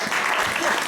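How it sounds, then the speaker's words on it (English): A live audience bursts into a thick, steady wash of clapping at a stage show, loud and continuous throughout the short moment. "Will you award him a thunderous round of applause?"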